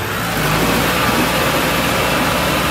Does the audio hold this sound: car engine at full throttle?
yes